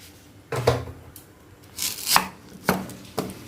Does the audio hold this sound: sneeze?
no